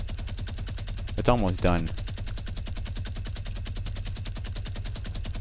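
Rapid automatic gunfire in a 2v1v1 squads video game match, a steady stream of evenly spaced shots running the whole time, loud and close, with a player briefly speaking over it.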